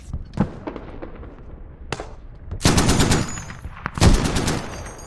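Gunfire and grenade launcher shots in the tactical military shooter Squad: scattered single shots, then two loud sustained bursts of automatic fire, close and with no talking.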